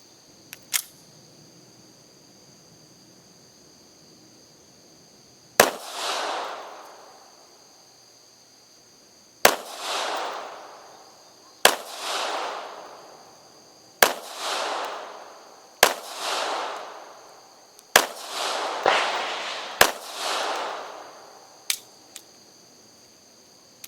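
A Sccy CPX3 .380 auto pistol fires outdoors at a target: a few spaced shots, then a quicker string of sharp, loud cracks with short ringing decays, a steady electronic tone underneath.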